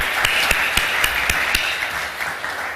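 Audience applause at a conference on intra-African trade, with a few loud, rhythmic group claps standing out over a steady bed of clapping that gradually fades.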